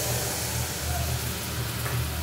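Paste of onion, garlic, ginger and cumin powder frying in a pan for an eggplant egg curry, a steady hiss and sizzle with a low hum underneath.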